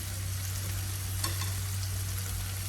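Minced beef sizzling steadily in a pan on a low flame as cheese is added, a continuous close frying hiss with a faint low hum and a brief soft stir, no talking.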